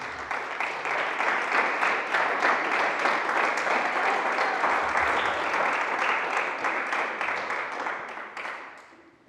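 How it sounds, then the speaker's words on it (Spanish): Sustained applause from a church congregation fills the space evenly for several seconds, a dense wash of many hands, then tapers off and fades toward the end. "Denles aplauso al Señor."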